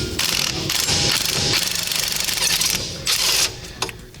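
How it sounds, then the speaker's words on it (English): A 1/2-inch impact gun rattles bolts loose on a Polaris RZR turbo, loud hammering bursts in several close runs with short pauses between them. "getting a 1/2-inch gun where you can have some pretty good, I call it, rattle force"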